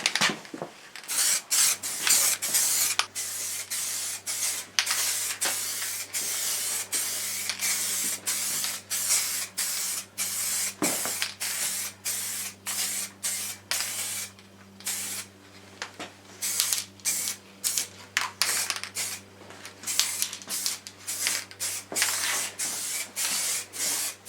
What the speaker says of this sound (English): Start to build up some coats.